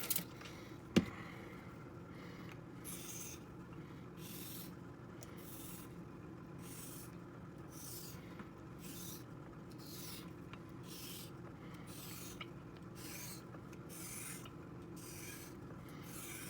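The edge of a Puma 91 knife is honed during edge restoration, with steady, evenly spaced rasping strokes of the blade, close and quiet, and no talk.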